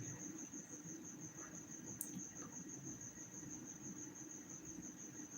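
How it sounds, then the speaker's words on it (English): Crickets chirp steadily in the background in a continuous high, even trill, quiet and distant under a low ambient hum, with no talking. "Yes, there are crickets in the background."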